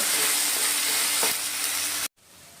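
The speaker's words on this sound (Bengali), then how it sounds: "আদা রসুন পেস্টটা 30-40 সেকেন্ড যদি ভালো করে ভাজা হয় তাহলে কিন্তু কাঁচা গন্ধটা চলে যাবে" Ginger-garlic paste sizzles loudly in hot oil for a Bengali muri ghonto, a dense continuous hiss that cuts off abruptly near the end, leaving quiet room tone.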